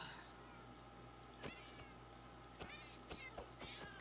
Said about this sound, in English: Don't kill that cat, I'll get it out.